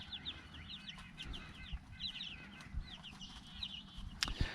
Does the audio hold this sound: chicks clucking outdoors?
yes